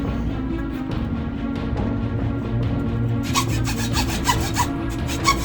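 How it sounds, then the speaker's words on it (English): Hacksaw cutting a dowel rod with steady back-and-forth rasping strokes, close and fairly loud, growing sharper and more clearly rhythmic in the last couple of seconds, with no talk. "The hacksaw."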